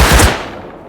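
Gunfire in the video game Rust, a quick cluster of loud, close shots that fade into a short decaying echo within a second.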